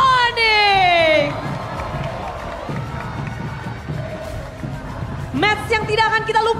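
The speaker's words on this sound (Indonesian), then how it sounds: "Mari kita sambut bersama-sama dengan tepukan meriah" Cheering crowd at an esports match in a mobile game playoff, a broad steady roar of voices and applause running under a caster's talk, with louder bursts at the start and near the end.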